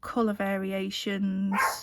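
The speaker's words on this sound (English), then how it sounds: "sorry about the dog, I don't know what he's barking at again." A dog barks nearby in two loud, drawn-out barks with a whimpering edge, and a voice talks over part of it.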